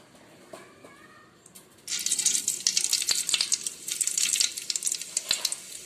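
After a quiet start, mustard seeds hit hot oil in a pan and burst into loud crackling sizzle, with sharp popping spatters continuing steadily to the end.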